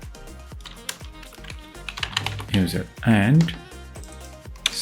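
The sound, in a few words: typing code on a computer keyboard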